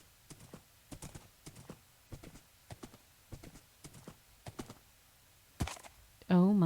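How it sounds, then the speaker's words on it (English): A horse's hooves clip-clop in Minecraft, a steady run of distinct, fairly quiet hoofbeats at walking pace, ending with a loud horse whinny. "Oh my gods, you are a limpy horse."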